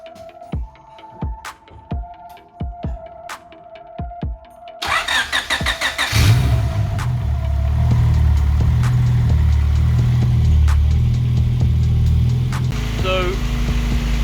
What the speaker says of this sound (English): So, it runs after fitting the new turbo.